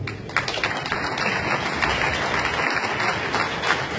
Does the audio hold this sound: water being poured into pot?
no